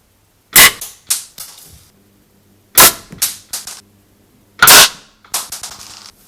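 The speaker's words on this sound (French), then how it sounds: "maintenant je tire à travers ça" A Benjamin 392 air rifle fires through a small tube, giving three sharp, loud cracks spaced about two seconds apart. Each crack is followed by short rattling echoes or impacts, with no talking.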